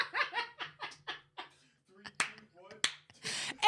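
A couple of sharp, isolated hand claps ring out during a lively podcast chat, set among bursts of laughter and close conversational voices.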